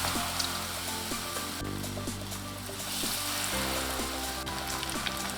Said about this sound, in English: Let's deep fry the vegetables.